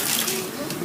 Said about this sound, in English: Then you add water.